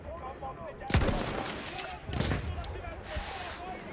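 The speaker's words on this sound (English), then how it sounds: "Oh, mortar, mortar, mortar!" Mortar fire in the Battlefield 1 video game, with several sharp explosive blasts and thumps cutting through a busy battle soundscape of background noise and distant gunfire, while a player talks at points.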